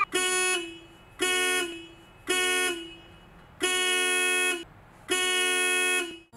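A car horn honks five times in a steady pattern of short-to-longer blasts with brief gaps between, pressed from inside the car by a child trapped there; loud and close, with no talking.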